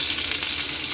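A loud, even sizzle of garlic and onion sautéing in hot oil for pork menudo, continuous and close, with no voices.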